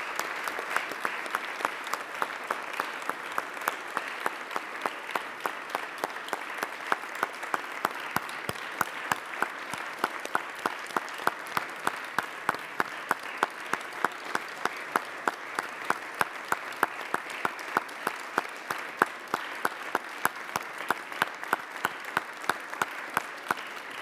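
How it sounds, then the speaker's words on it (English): A long round of applause in a New York City Council chamber, many hands clapping steadily and fairly close with sharp individual claps standing out, sustained for the whole stretch. "give Officer Strofolino and Lieutenant Guthrow a round of applause for their service to New York City"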